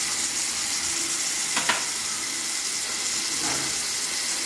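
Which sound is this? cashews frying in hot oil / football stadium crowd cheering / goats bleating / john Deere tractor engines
cashews frying in hot oil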